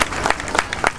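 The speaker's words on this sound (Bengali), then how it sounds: "একবার জোরে হাততালি।" Audience clapping at a political public meeting in support of an assembly candidate, a short burst of crowd applause with scattered sharp claps, moderately loud and close.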